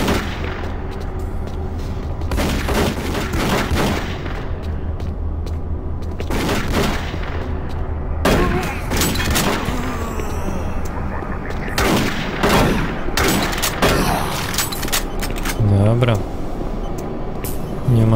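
Bursts of gunfire in the video game Doom 3 crack repeatedly over a dense battle soundscape, with overlapping shots and rumbling explosions, loud and close throughout.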